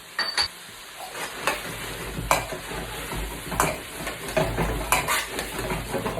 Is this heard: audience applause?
no